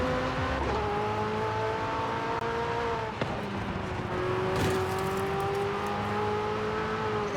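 Sustained engine roar of a McLaren 765LT in Forza Horizon 5, revving and pulling hard through gear changes, with the pitch climbing, dropping at shifts, then rising again, loud and close throughout.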